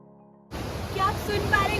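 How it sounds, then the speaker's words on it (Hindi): A hidden waterfall on a trek in Bir Billing gives a steady, dense rushing roar close by. It starts abruptly after a brief quiet moment and holds at an even loudness. "वाटरफॉल का साउंड आपको बहुत क्लियर सुनाई दे रहा होगा।"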